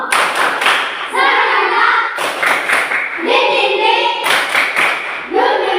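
A class of students standing up for a clapping game, with rhythmic bursts of hand claps and thumps alternating with children chanting words in a call-and-response pattern.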